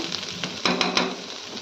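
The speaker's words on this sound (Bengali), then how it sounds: "আর একটু ভাজবো" Food frying in a pan: a continuous close sizzle with a few brief stirring scrapes on top, and no talking.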